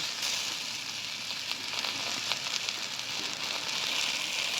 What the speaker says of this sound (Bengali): এবার আমি ঢেঁড়সটা আরেকটু ভালো করে ভেজে নামিয়ে নেব